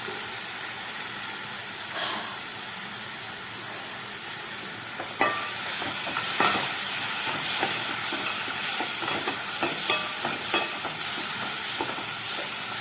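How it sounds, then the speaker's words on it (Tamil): Tomatoes sauté in a pan, giving a steady, loud hiss of steam and sizzle with occasional scrapes and clicks from stirring, and no talking. "தக்காளி வதங்கட்டும்."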